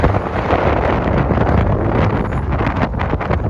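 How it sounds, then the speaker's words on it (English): Strong, gusty wind buffets the microphone on a cold morning beside a fjord in Sandefjord, Norway, a loud, continuous rumbling roar with no voices. "very cold, windy morning."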